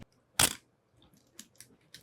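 A Nikon-style SP1000 35mm film camera fires its shutter once, giving a sharp, close mechanical snap at top speed 1/1000, followed by faint small clicks and handling noises.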